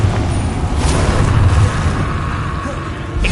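A Confringo blasting spell explosion in the Hogwarts Legacy video game hits as a loud, deep, rumbling boom. It washes over a busy combat soundscape and then tails off into lingering noise.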